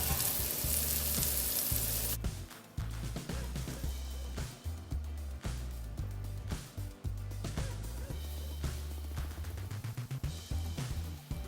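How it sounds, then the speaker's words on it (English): Thin bone-in pork steak sears in a hot pan with loud, steady broadband frying noise, interrupted about two seconds in by a flip that changes the sizzle, followed by continuous crackling and scattered pops. "I'm going to flip it and I'm going to let the other side just sear"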